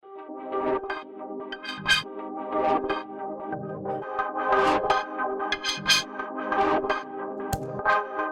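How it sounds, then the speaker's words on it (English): A shimmering, wobbling synth tone drifts through washes of modulated reverb, with bright sparkling flickers rising and fading throughout. "Which sounds nice as a sort of a reverb, affected reverb, modulated reverb."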